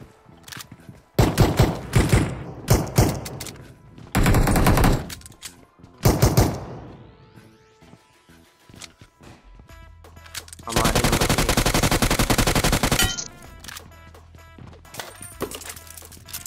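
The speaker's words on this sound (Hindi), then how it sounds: "गोलियां चला रहे हैं रे, बंदूक से डरोगे" Bursts of rapid machine-gun fire from a video game, loud and close, come in several clusters with quieter gaps and one long sustained volley, mixed with impact crashes and faint speech.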